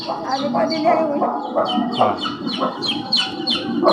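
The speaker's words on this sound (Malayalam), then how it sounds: "നാടൻ കോഴിയല്ല കേട്ടോ ഇത് എങ്ങനെ വളർത്തും" Chickens of a non-native breed cluck repeatedly in a busy, close chorus of short calls with overlapping voices.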